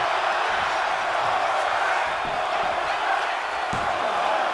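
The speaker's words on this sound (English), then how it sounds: "You hearing the crowd" Wrestling crowd at a Friday night show roars steadily throughout, a dense, loud wash of cheering with a few sharp slams or shouts poking through.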